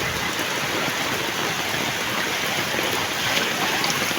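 Floodwater rushing down from a mountain, a loud, constant broadband roar of churning water with no break, close and filling the whole scene.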